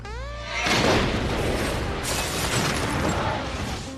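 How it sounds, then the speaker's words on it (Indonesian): A car blows up from a package bomb in an action film: a sudden loud blast after a short rising tone, then a long rumbling roar of debris and fire. "mobilnya meledak yang berasal dari paket"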